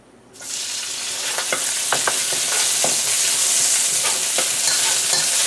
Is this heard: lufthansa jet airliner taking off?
no